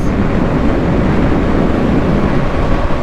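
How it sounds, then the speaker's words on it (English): A Sur-Ron electric motorbike fitted with a QS 165 motor and 72V system accelerates at full throttle in third gear on a downhill road, heard as a steady, loud rushing drone of motor whine and wind noise throughout. "I am in gear 3 and I'm fully on the throttle."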